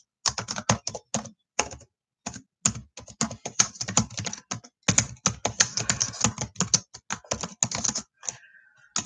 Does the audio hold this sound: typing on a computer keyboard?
yes